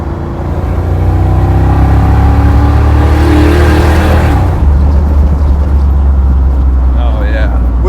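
A loud V8 engine in a swapped Jeep Wrangler revs hard and roars up close, then settles into a steady rumble.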